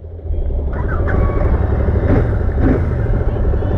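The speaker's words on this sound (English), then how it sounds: "The exhaust is similar to the Super Meteor, not much of a difference." Royal Enfield Shotgun 650 motorcycle exhaust, a steady low engine drone running continuously close by, with a voice speaking over it.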